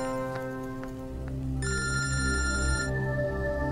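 A telephone rings indoors with a bright electronic ringtone, first in short separate bursts, then in a sustained warbling ring that holds loud and steady.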